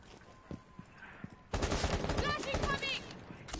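Rapid gunfire erupts in a competitive Rainbow Six Siege match, including a headshot: a dense, loud burst of automatic shots that starts abruptly after a quiet stretch of faint clicks, with a commentator talking over it.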